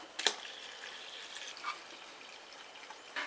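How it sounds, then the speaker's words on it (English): Water trickles and drips faintly into a homebrew beer wort as it is topped up to the five-gallon mark, with a few brief louder splashes over a quiet, steady pour. "we use a little bit more water to cap it off at the 5-gallon mark"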